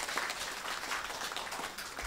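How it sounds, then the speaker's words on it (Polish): Audience applause in a literary cabaret hall during a Polish performance of a song, a steady, dense clapping that holds evenly at moderate volume throughout. "Brawa dla zachęty."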